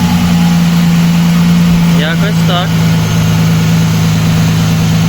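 An Audi A6 2.4 V6 idles in a garage right after its first start following timing chain, tensioner and guide replacement, a loud steady low hum with a brief voice speaking over it.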